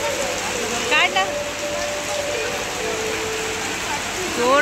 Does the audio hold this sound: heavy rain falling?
yes